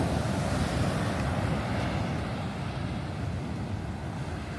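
Very strong ocean waves crash on a beach in Zambales, making a loud, continuous roaring surf with gusting wind noise and no voices.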